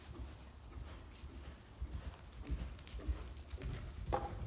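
Horse hooves thud in an uneven clip-clop rhythm during a jumping lesson in an arena, moderately close, with a short louder burst near the end.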